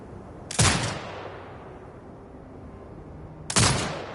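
Two sharp, loud turret shots fire in a video game about three seconds apart, each a sudden blast with a ringing decay over a quiet background.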